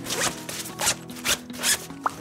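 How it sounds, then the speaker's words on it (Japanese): Zippers on a beige compressible travel packing bag for clothes are pulled open in several quick, close, raspy strokes, each a short burst of ratcheting zip, with no talking. "全てのファスナーを開けるとこのようにしっかりとマチがついたポーチになっていて"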